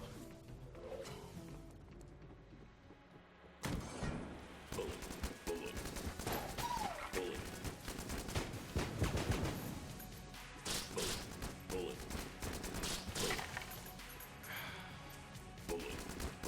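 Rapid bursts of cartoonish gunfire in the game Enter the Gungeon, dense clattering shots and thumps over a backing music track, mostly loud and continuous for a long stretch without talk.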